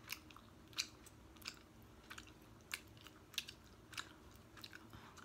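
Chewing gum is worked close to the mouth with a quiet, steady chewing texture broken by sharp, wet smacks every half second or so, and no one speaks.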